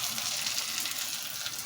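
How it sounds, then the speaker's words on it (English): A knob of butter sizzles steadily in the bottom of a pan, with a constant soft, bright hiss and no voices. "I've put a knob of butter in the bottom"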